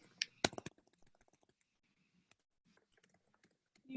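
Typing on a computer keyboard: a quick burst of loud, close key clicks at the start, then sparse, faint taps over near silence.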